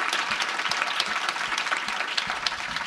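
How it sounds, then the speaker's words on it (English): An audience at a LinkedIn speaker series event breaks into loud, continuous applause, many hands clapping densely and evenly for the full three seconds with no voices over it. "Since you gave yourselves a round of applause, let's give them a round of applause."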